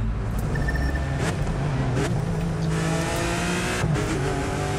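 A Lamborghini Huracan in the racing game The Crew 2 revs and accelerates, its engine note climbing through gear changes with brief tire squeals, loud and close with no voices.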